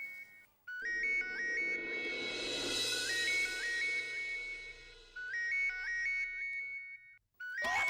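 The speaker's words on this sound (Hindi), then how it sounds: "ये रिंग कहाँ बज रही है?" A melodic phone ringtone repeats its electronic tune several times over a background rumble, cutting off briefly near the end before starting again.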